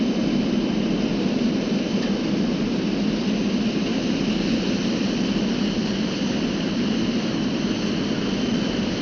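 An airplane on approach to land on a short runway, with a steady loud roar of engines and broadband rushing noise that holds constant throughout.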